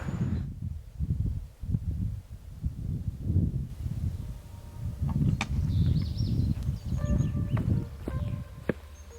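Birdsong chirps and whistles in a forest in the Swiss Alps over a steady low rumble of flowing river water and rustling, with calls growing busier toward the end.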